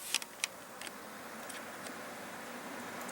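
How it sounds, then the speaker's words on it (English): Cooling fans roar at full speed, a steady broadband whoosh of rushing air with a few faint ticks near the start; no voices. "Starting to get a little bit of motor noise, but the majority of the noise is wind noise instead."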